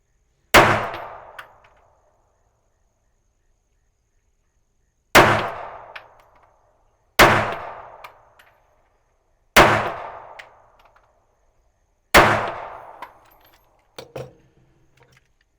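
A Smith & Wesson M&P Shield EZ Performance Center pistol fires five sharp, loud shots with irregular gaps, each a crisp crack with a short ringing decay, plus a fainter clank near the end.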